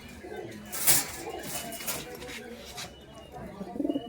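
Pigeons coo softly in a pigeon shop at a market in Khulna, their low repeated calls with some rustling beneath a voice talking close by.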